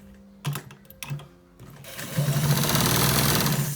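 A sewing machine stitching a white trouser: a few short stop-start bursts, then a continuous fast whirring run of stitching, close and loud, with no talking.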